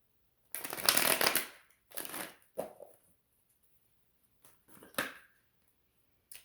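A tarot card deck being shuffled close by in several separate bursts of riffling and flicking, with quiet pauses between them.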